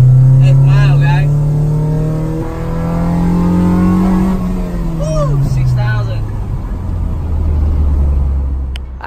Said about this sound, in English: Honda delsol GSR right hand drive